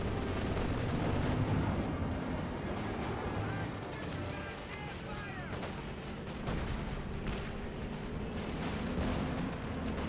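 Panther and Brummbar tanks firing in Company of Heroes 2, a dense battle din of repeated heavy gunfire and artillery blasts with smaller arms crackle, continuous throughout with a commentator's voice faintly under it.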